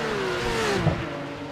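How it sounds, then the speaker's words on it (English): GT4 race car engines sweep past during an endurance race at the Winter GreenHELL 2020/2021 event, a loud steady roar with one engine's pitch falling as it passes, with no speech. "I don't like the sound of the engines when I'm watching."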